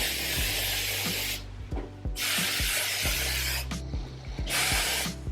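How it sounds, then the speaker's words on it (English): Repeated hissing bursts of aerosol hairspray come in three long sprays onto hair, close by, with soft rubbing and clicks between them. "we're gonna give our bottom layer a whole spray"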